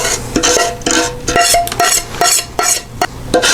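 A utensil scrapes liquid sugar out of a pan, making repeated metallic scrapes and clinks in an irregular rhythm, close and fairly loud.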